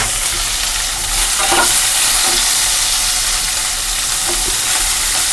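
Onion, garlic and ginger fry together in a pan for matar paneer, a constant loud sizzle with scraping stirs of a spatula breaking through now and then, close and without talk.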